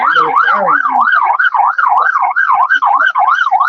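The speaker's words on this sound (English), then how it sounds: "Just gonna wait till the ambulance goes by." A loud, close ambulance siren wails in a fast, rhythmic up-and-down sweep, sustained throughout, heard at an outdoor evening event in Aotea Square.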